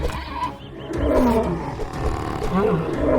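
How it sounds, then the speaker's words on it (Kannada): A lion and a wild boar fight as a sound effect in a moral story, with deep roaring growls and snarls rising and falling close up, continuous and loud throughout. "ಸಿಂಹ ಮತ್ತು ಕಾಡು ಹಂದಿ ಎರಡೂ ಜಗಳವಾಡಲು ಪ್ರಾರಂಭಿಸಿದವು"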